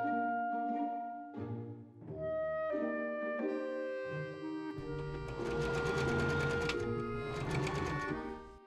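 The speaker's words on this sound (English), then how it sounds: "I sew the pocket on, leaving seam allowance at the top and bottom." A sewing machine stitches a pocket onto a skirt seam for an 1890s Victorian ballgown, its quiet rapid whirring rising in the second half under gentle background music.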